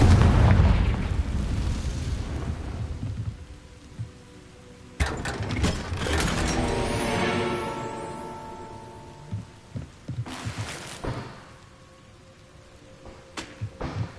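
A Confringo blasting spell goes off in Hogwarts Legacy, loud booming bursts with crackling debris, one big blast at the start followed by further sharp impacts and rumbling tails, no talk.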